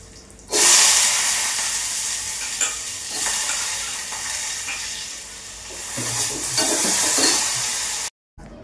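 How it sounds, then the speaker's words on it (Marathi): Chopped potatoes and peanuts roasting in a hot pan, a loud continuous sizzle with scraping stir strokes, ending in a brief cut to silence. "शेंगदाणे भाजून झाले की मग त्यामध्ये हा चिरून ठेवलेला बटाटा टाकायचा आहे आणि बटाटा देखील अगदी व्यवस्थित असं मी भाजून घेणार आहे"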